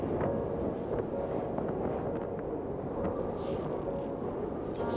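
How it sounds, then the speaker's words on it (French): Cold wind blowing hard outdoors, a steady, dense roar that rumbles against the microphone throughout, with no speech. "Le vent me glace le visage."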